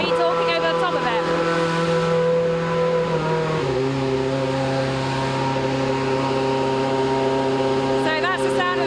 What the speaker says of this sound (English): So that's the sound of the V8 engine